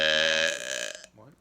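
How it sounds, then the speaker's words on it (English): A loud, drawn-out burp with a strong harmonic tone fades into a second, softer, shorter burp right after it. "Yep, I burped twice."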